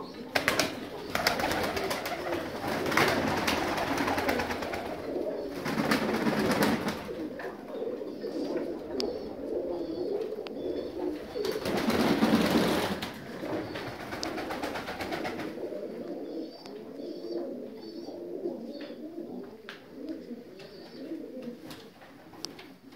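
North Caucasian fighting pigeons in an aviary coo steadily throughout, a low rolling murmur of several birds close by with occasional wing flutters and louder bursts.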